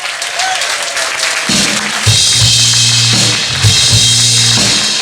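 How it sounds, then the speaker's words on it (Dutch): Audience applause fills a hall at a carnival song contest prize ceremony, building from light clapping into dense, sustained clapping over a background music bed. "Een applaus in de zaal voor u allemaal."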